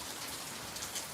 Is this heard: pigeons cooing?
no